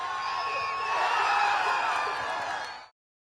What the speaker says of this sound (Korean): 플리식의 선제골이 나오자 환호성을 터뜨립니다